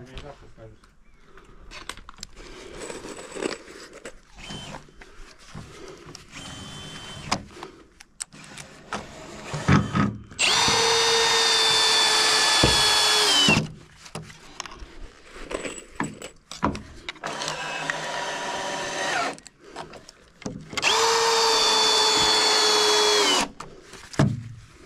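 Power drill driving screws during attic floor construction on a bungalow: two loud whirring bursts of a few seconds each, separated by stretches of people talking and handling noises.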